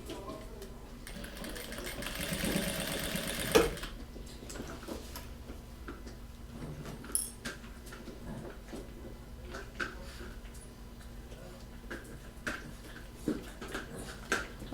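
A sewing machine runs in a loud burst near the start as white bias binding is stitched around the edge of a multipurpose baby toiletry travel bag, then quieter handling and light tapping follow.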